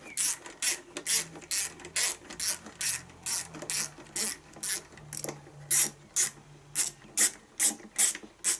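A ratchet wrench loosens a 3/8 bolt hidden behind the tank of a Klippo Excellent lawnmower, giving a steady series of about fifteen crisp, close-up clicking strokes in even rhythm.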